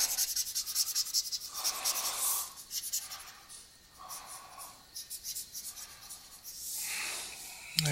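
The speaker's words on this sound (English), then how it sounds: "I'm going to erase these." A board eraser is rubbed across a writing board in several separate dry swiping strokes, close and fairly quiet, with pauses between the passes and no talking.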